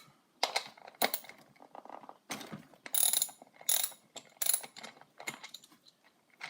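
A ratchet backs nuts off the wheel of a JLB Cheetah RC car in short bursts of sharp clicking. It is close and crisp, with brief pauses between strokes.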